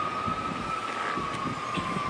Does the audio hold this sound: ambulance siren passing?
yes